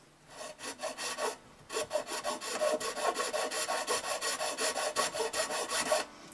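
Metal nut files rasp back and forth across the nut of an Esteban acoustic guitar during a setup to lower string action, a steady run of quick scraping strokes, close and fairly loud, with no talking.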